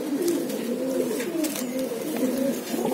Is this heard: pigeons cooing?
yes